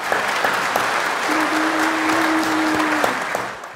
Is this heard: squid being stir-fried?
no